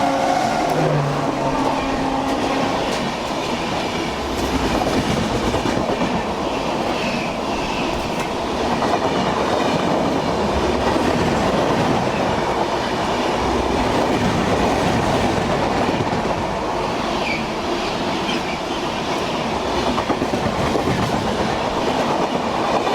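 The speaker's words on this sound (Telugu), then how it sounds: "సో మన ట్రైన్ చీరాల నుంచి అయితే బయలుదేరిపోయింది." The Visakhapatnam–Kollam special express train runs on the rails after leaving Chirala, a steady, loud rumble with rhythmic clickety-clack of wheels over rail joints, heard from on board with no voices.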